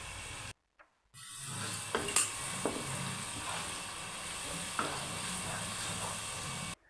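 Aloo baingan curry sizzles in a pan as spices are stirred in, a steady frying hiss broken by a brief gap and a few spoon scrapes and taps.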